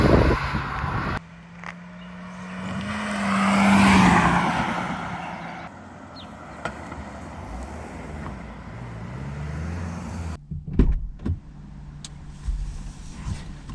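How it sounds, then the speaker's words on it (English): A Kia Sportage 1.6 T-GDI AWD out on the road, with a low engine and road hum under wind noise that swells and fades, then a few knocks and thumps toward the end. "now let's take it on the road and let's see how it drives"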